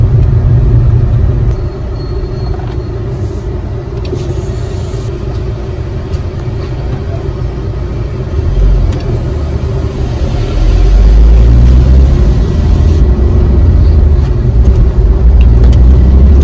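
A car cruises along a long, straight, nearly empty highway, its engine and tyres producing a loud, steady road rumble that deepens and grows heavier in the second half, with no voices.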